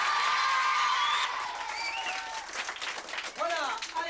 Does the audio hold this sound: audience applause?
yes